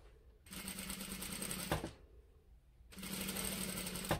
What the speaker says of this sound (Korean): 재봉 한번 하고 바이어스 쪽으로 넘겨서